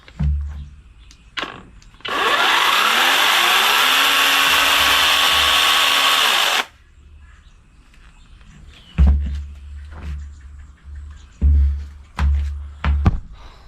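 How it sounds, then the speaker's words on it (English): A new battery-operated electric chainsaw whirs up to a loud, high whine for about four seconds and then winds down, surrounded by footsteps and handling thumps. "I don't think I've ever heard an electric chainsaw before."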